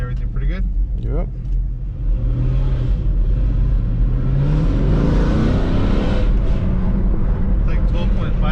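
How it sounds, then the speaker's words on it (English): A car engine on a vehicle being tuned with a wideband air-fuel gauge revs under throttle, a loud, steady rumbling roar that rises and holds for several seconds, with people talking over it at the start. "I went up with throttle."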